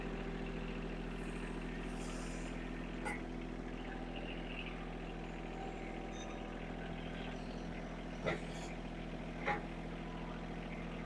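A John Deere 1023E compact tractor engine idling steadily, a close, even diesel hum with a low droning tone, broken by a few faint clicks and knocks.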